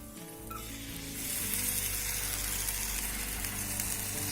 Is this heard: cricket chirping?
no